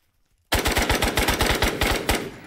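A loud burst of automatic gunfire sprayed in a video game, rapid evenly spaced shots starting abruptly after a moment of silence and continuing for about two seconds.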